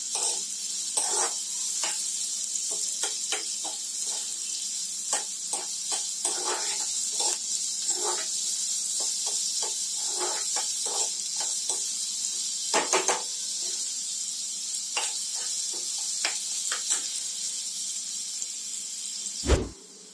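Chopped onion sautéing in hot oil, a steady bright hiss with frequent small crackles and pops all the way through, close and constant, with a sharp clatter near the end.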